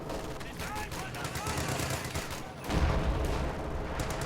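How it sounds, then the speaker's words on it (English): Battlefield gunfire in the World War II strategy game Company of Heroes 2: steady, somewhat distant rattling volleys of rifle and machine gun shots, broken partway through by a heavier booming thud. "They are shooting."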